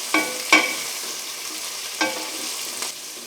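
Ridge gourd peel and a handful of gourd pieces stirred in a hot pan, a steady low sizzle broken by four sharp scrapes of a spatula against the pan, close and without talk.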